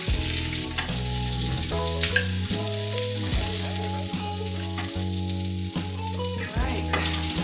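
Chicken sausages sizzle and spit as they fry in a pot, a steady crackling hiss heard under prominent background music, with no talking.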